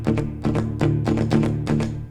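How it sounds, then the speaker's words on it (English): A metalcore breakdown riff in 11/8 time plays on a heavily distorted guitar, with loud, chugging, palm-muted hits in an uneven stop-start rhythm and no voices. "I wrote a breakdown riff in 11/8"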